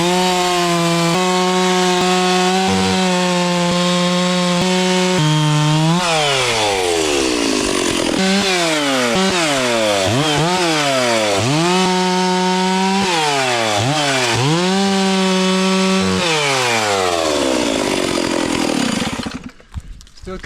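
Chainsaw cutting firewood in the mountains, loud and close, the engine revving and bogging repeatedly as it bites through wood for about nineteen seconds before cutting off abruptly.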